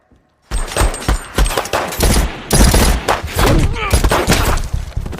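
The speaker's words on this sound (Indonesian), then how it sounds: "terjadilah baku tembak antara Yanto dan kawan-kawan melawan Pak Polisi" Rapid gunfire from a film shootout between a gang and police, dense overlapping bursts of shots and sharp impacts continuing loud and close for about five seconds after a brief silent start, with faint voices mixed beneath.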